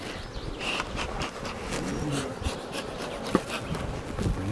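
Steady droning buzz of many honeybees close by at hives, continuous throughout with a few soft knocks and rustles.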